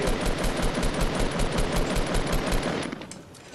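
Rapid automatic gunfire in the video game Fortnite rattles in a steady burst of shots, fairly loud and close, then cuts off, leaving quieter background noise.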